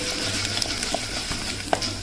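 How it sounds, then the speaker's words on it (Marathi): Indrayani rice being stirred and fried in ghee in a pan, a soft continuous sizzle with occasional scraping clicks from the stirring, close and alone. "छान फ्राय होऊ द्यायचं, त्याला परतून घ्यायचं तुपामध्ये"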